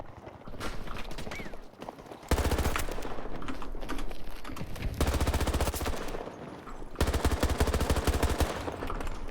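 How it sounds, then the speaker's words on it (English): Submachine gun fire in the shooter game Battlefield 2042, loud close bursts of rapid automatic shots in several long strings separated by short pauses. "I'm peppering fire. And it's hitting him at a range with a submachine gun like you're supposed to."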